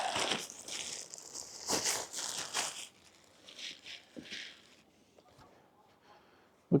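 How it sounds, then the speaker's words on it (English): Auxito A501 compact air pump pulled out of plastic packaging, with close crinkling and rustling of plastic in the first half, then quieter scattered crackles and handling bumps. "Pull it out of the plastic here."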